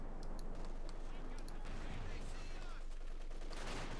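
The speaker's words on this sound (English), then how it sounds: "Catching the mortar, catching the machine gun there." Mortar and machine gun fire in the World War II strategy game Company of Heroes 2, a dense barrage of sharp cracks and rattling bursts over constant battlefield noise.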